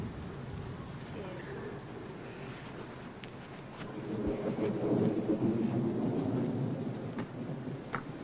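A thunderstorm with rain sets in: a steady wash of rainfall with a low rumble of thunder swelling in the middle and staying loud near the end, with voices faintly under it.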